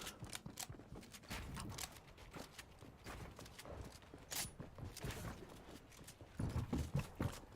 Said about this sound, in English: You can hear footsteps on the outside of the build.